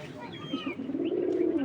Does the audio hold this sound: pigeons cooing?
yes